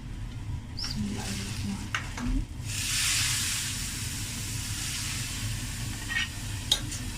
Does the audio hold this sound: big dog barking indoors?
no